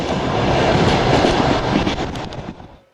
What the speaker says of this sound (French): Notre train continue à filer vers l'est.